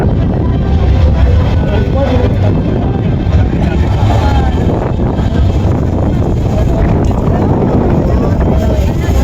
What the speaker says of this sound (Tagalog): Nakuhanan ko pa talaga ang lakas ng simoy ng hangin na para tilang sumisipol.